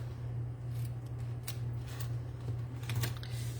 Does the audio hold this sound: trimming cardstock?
yes